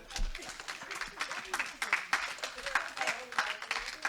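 An audience applauds in a hall, a brisk ragged patter of many hands clapping steadily over a few seconds at moderate volume.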